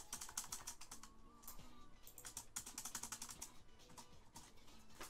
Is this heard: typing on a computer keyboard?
yes